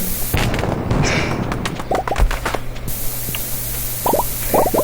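Cartoonish bomb blasts from the Stardew Valley video game go off while clearing a farm, several sharp pops and bursts with bright crackling bits, the loudest clustered near the end over a steady game music bed.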